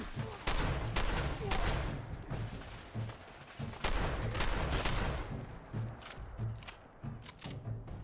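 Repeated shotgun blasts in a video game, loud sharp reports fired in a steady, fairly quick rhythm over continuous background game noise.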